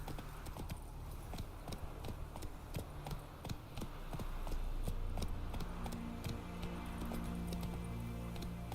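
Roach, a horse in The Witcher 3, gallops with steady rhythmic clip-clop hoofbeats that pick up pace partway through, alone and fairly close.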